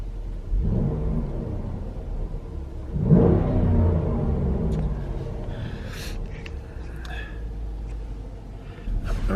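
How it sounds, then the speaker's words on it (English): A Dodge Durango R/T Hemi 4x4 rolls through a snowstorm, its engine a low steady rumble heard from inside the cabin while people talk over it. "I'll have fun driving the Durango in the snow."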